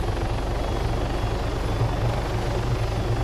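A helicopter in the Arma 3 video game drones steadily, its loud rotor thump and engine whine constant and close for the whole stretch, with no talking.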